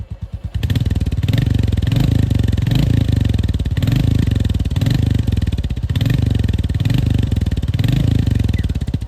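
A Royal Enfield Goan Classic 350 motorcycle idles close by, its single-cylinder exhaust giving a loud, steady, deep rhythmic thump that continues evenly throughout without speech.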